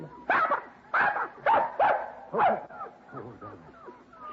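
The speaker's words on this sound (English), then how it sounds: "Puppies, Dollar." A litter of six puppies gives a run of short, yappy barks at a steady pace, then softer whimpers and whines toward the end, close by and with no talking.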